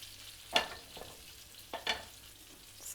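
Cumin seeds frying in a pan make a quiet, low background sizzle, broken by two brief sharp clinks or scrapes about a second apart.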